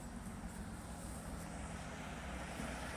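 Cable car climbing a mountainside above Trento, Italy, giving a steady low mechanical drone and rumble with airy wind noise, continuous and fairly even for the whole stretch, with no voices.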